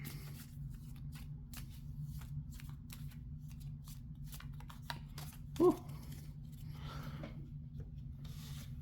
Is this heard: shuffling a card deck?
yes